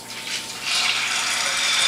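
Cold water pours from a tap over dried chickpeas in a bowl, a close, continuous gushing splash that swells louder partway through.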